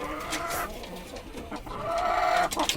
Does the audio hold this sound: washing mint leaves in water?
no